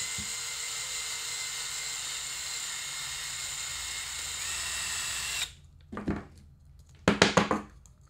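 A Dremel rotary tool grinds a part during assembly of a bubbler for a lightning detector, a steady high whine running loud for about five seconds, then two short bursts after a pause.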